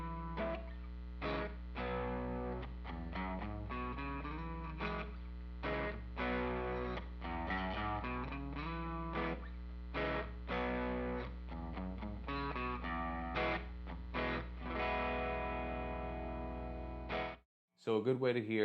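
An electric guitar strums and lets chords ring through an MXR Timmy Mini overdrive pedal, producing a gritty, driven rhythmic pattern over a low steady hum that stops abruptly near the end.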